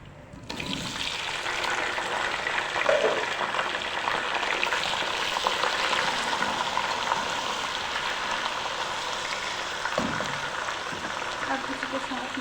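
Steady sizzling of oil as spices and meat for beef yakhni pulao are sautéed in a pan, a continuous frying hiss with occasional stirring knocks, close and fairly loud throughout.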